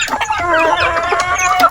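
A native chicken pullet clucks repeatedly and close by at feeding time while pecking at termites, its short, rising calls tumbling over one another with no talking.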